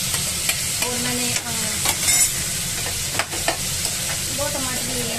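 Tomatoes being stirred and fried in a pan for chutney, with a constant close sizzle and repeated clattering stirs of a spoon against the pan, no talk heard.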